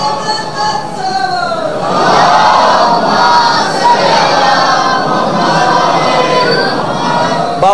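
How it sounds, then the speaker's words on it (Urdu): Large religious gathering loudly chanting salawat together, a dense, sustained roar of many voices rising in volume after the first couple of seconds and holding loud and continuous. "سلوات پڑھ لیں آپ بلند بس."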